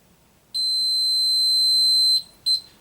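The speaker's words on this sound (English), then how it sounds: "it's just gone into alarm mode" A HomeSafe home alarm system, just back on power after a battery replacement, sounds a loud, piercing steady electronic tone for about one and a half seconds, then stops and gives a short second burst.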